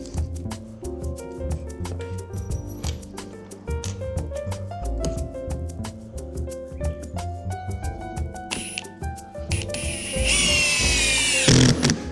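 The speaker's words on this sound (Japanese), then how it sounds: "じゃあビスを打ってきます" A power drill drives screws during a DIY ceiling fan installation. Short bursts of drilling become a longer, louder whirring run near the end, heard over steady background music.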